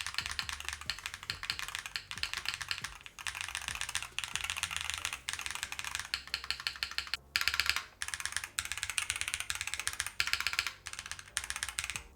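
Rapid clacking keystrokes on a keyboard fitted with Hall effect switches with deep navy housings and yellow stems, a dense run of typing bursts with brief pauses, close and fairly quiet.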